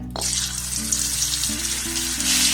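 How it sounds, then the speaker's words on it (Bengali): White oil and a little butter heat in a wok for chicken soup, giving a steady, close, loud sizzle that crackles evenly throughout with a low hum beneath and no talking. "এর মধ্যে দিয়ে দেবো সামান্য পরিমাণে সাদা তেল আর এই সাদা তেলের মধ্যে দিয়ে দেবো অল্প একটু বাটার"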